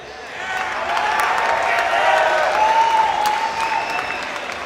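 Sustained applause from a crowd, with some cheering mixed in, holding steady throughout at a fairly loud level.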